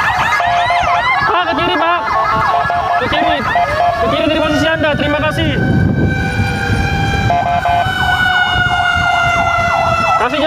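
Ambulance siren on an emergency hospital run during Lebaran, loud and continuous with shifting wail and yelp patterns, while someone speaks over a loudspeaker directing traffic and road noise rumbles underneath.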